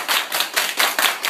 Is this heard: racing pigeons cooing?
no